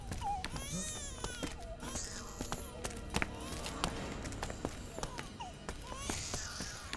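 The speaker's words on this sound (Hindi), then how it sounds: "बच्चे की रोने की आवाज कुएं से आ रही है।" A baby's cry, said to come from a well, rises in a tense horror-film scene, thin and wavering under dense background sound effects and music across the whole stretch.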